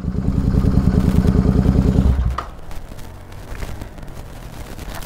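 A Royal Enfield Continental GT motorcycle engine rumbles loudly with a steady, pulsing idle for about two seconds, then cuts away to quieter outdoor noise with faint clatter at a drag race acceleration test.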